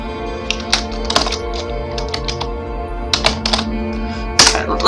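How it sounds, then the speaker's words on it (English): Sharp, irregular key clicks from someone typing on a computer keyboard, in short clustered bursts over a steady low hum, with no talking. "let me just type this out in the middle"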